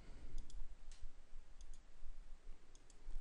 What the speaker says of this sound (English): and right mouse click